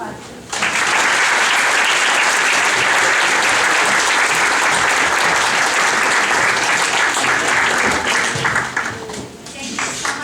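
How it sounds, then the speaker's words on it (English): A school audience applauds a student performance in a dense, sustained wash of clapping that swells in after a brief lull and holds loud for about nine seconds before starting to thin. "So one more round of applause, please."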